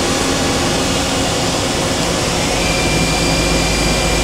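An Okuma MA-50HB horizontal machining center spindle runs at high speed, a steady loud broadband whir and hum that holds constant throughout with a faint high whine, no voices.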